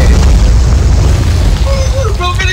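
A loud grenade blast in a PS4 game, a deep rumbling boom that fills the scene and fades, with brief voices near the end.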